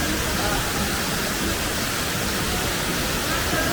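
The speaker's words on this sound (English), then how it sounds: "enjoy watching this beautiful waterfall" A waterfall in a city setting gives off a dense, unbroken hiss of falling water, loud and steady throughout with no changes in level.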